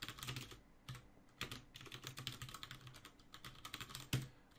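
Code is typed on a computer keyboard in quick, uneven bursts of close clicks and clacks, with a heavier keystroke near the end and no speech.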